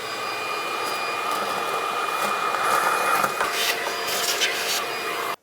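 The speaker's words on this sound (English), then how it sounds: "we're going to go ahead and grab a vacuum, clean this out, make it easier to work" A vacuum cleaner runs steadily with a constant whine while clearing debris from the engine bay of a 2007-2012 Nissan Versa, with a few clunks and shifts in tone as the nozzle moves, then cuts off abruptly.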